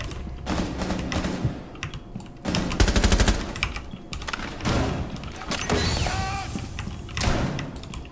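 Gunfire in the tactical shooter Rainbow Six Siege, with bursts of rapid automatic shots and single sharp cracks spread across the clip, loud and close, mixed with clattering game sounds.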